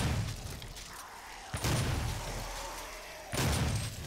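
Gunshots in the video game DOOM: two sharp, loud bursts a couple of seconds apart, each cutting through a low rumbling background and fading quickly.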